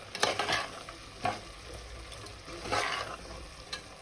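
Spice powder being stirred into vegetable pulao in a pan, with a few scraping stir strokes and a soft sizzle throughout, close and moderately quiet, with no talking.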